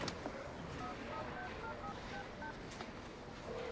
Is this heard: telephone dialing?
yes